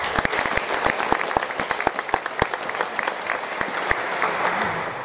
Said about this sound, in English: So please big applause for players.